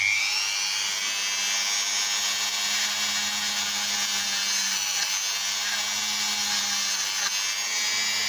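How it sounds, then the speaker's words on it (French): A power drill running a short test bore hums with a steady high-pitched whine that holds at close range for about eight seconds without a break. "je fais un petit test de perçage."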